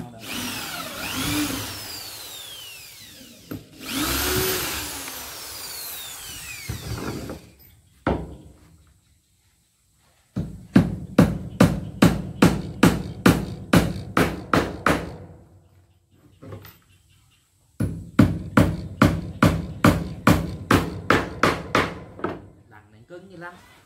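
Power drill boring into hard material for a hut-building project, heard in two long runs of rapid rhythmic pulsing bursts, loud and close, after an opening stretch of scraping, knocking handling noise.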